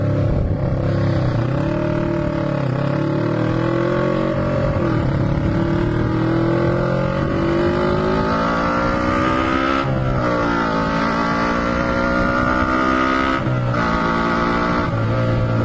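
A Honda CB twin motorcycle revs and accelerates through several gear changes, the engine note climbing in pitch, dropping and climbing again, loud and close with wind noise and no talk.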